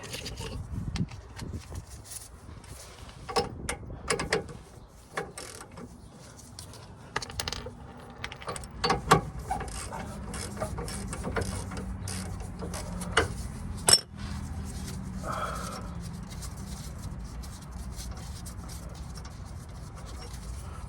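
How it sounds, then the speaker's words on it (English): A nut is loosened and removed during a Bilstein B8 5100 steering damper install, giving scattered light metallic clinks and taps against a steady low background, close by and without talk. "We're gonna loosen that nut out so we can finally drop that shocks, struts."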